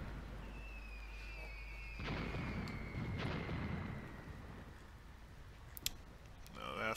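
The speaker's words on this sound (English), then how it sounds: "Actually, that might be my artillery preparation" Artillery preparation fire in the war game Graviteam Tactics rolls as low, distant booming rumbles over a steady background hum, with faint clicks and a thin whistling tone drifting above.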